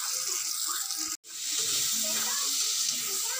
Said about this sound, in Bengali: তো মশলাগুলো ভেজে নিয়ে